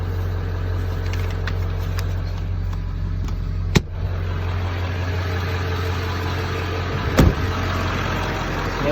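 Ford F250 with a 7.3 diesel engine idling, a steady low rumble with a constant clatter, close and continuous, with a couple of brief sharp clicks partway through.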